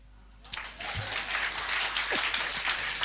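A church congregation breaks into applause after a sharp knock, the clapping swelling into a steady, even wash that continues throughout.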